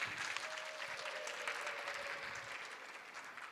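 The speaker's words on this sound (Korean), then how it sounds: "많은 박수 부탁드립니다." A lecture audience applauds as a physicist is introduced, a soft, even patter of many hands heard faint and somewhat distant.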